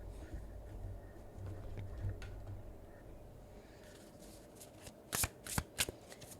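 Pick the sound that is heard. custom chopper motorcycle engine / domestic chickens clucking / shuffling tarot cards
shuffling tarot cards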